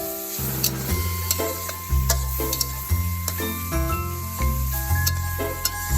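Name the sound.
stir-frying sliced pork with garlic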